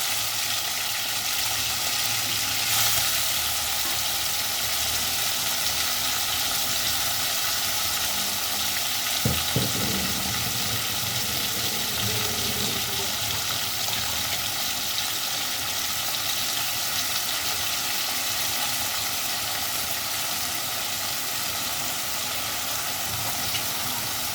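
Prawns coated in salt and turmeric frying in hot oil, a steady broadband sizzle holding evenly throughout with a brief sharper crackle partway, no voices.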